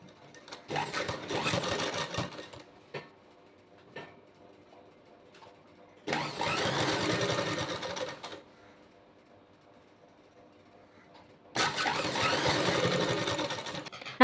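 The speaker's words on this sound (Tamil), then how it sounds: "மார்க் பண்ணிவிட்டு இனி இந்த மார்க்கிங்கில் அப்படியே நம்ம தைச்சிடலாம்." A sewing machine stitches along a marked neckline seam in three long, steady mechanical runs separated by quiet pauses, close and fairly loud, with no talking over it.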